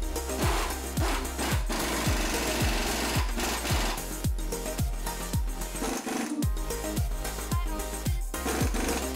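A power tool tightens the bracket bolt and panhard rod bolt on a 2005-2014 Mustang control arm relocation bracket, hammering in a fast, loud, rattling series of impacts that runs close and steady throughout.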